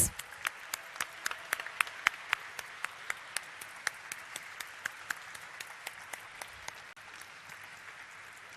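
Applause celebrating the stock market listing of Flair Writing Industries: a steady run of sharp, crisp hand claps from a group, continuing without pause over a soft background hiss.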